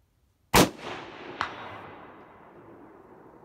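A single loud, close rifle shot from a Howa 1500 Mini-Action in 6.5 Grendel cracks out, followed by a fainter distant echo or impact about a second later and a long fading outdoor tail.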